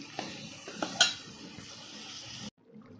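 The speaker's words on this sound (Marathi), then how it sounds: "छानपैकी भाजी परतून घ्यायची" A spoon clinks and scrapes in a pan as a potato curry with ground masala is sautéed over a quiet frying hiss, then the sound cuts off abruptly.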